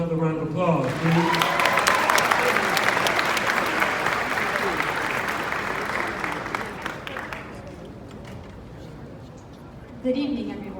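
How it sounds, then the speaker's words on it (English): Sustained audience applause at an 8th grade middle school graduation ceremony, a dense wash of clapping for about seven seconds that gradually thins and fades, with a voice beginning to speak near the end. "Give them another round of applause, please."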